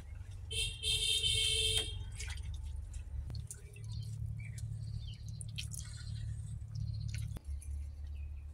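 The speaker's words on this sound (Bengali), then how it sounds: "এইভাবে চটকে দুধ বের করে নেব।" Grated coconut is mashed and squeezed by hand to press out its milk: soft, wet squelching and dripping, fairly faint and continuous, with a brief high tone near the start.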